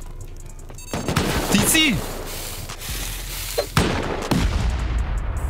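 Automated turrets in the survival game Rust open up in bursts of loud, sharp shots separated by short pauses, with a sweeping whoosh in between and a brief shout partway through.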